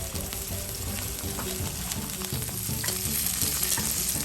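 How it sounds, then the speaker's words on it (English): Shrimp frying in a pan gives off a steady sizzle with busy stirring and scraping throughout, heard close and without any talk. "We then fry the shrimp slightly."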